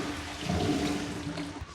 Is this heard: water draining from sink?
yes